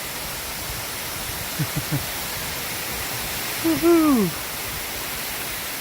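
Water rushing over a waterfall, shooting fast off the top section, fills the scene as a steady broadband roar, with a couple of brief voice blips and a loud whoop from a person partway through.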